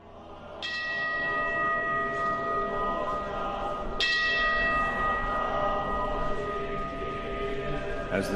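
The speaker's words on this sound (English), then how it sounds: "the neighborhoods resound to the chanting of sutras and the ringing of temple bells" Temple bells ring out over Kyoto at sunset, two loud bright strikes about three seconds apart, each leaving a long shimmering hum that hangs over a steady low background.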